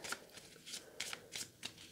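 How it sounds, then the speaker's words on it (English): Quiet, close riffle shuffling of a card deck, several brief crisp bursts of flicking cards in a loose rhythm. "Bit of a riffle shuffle."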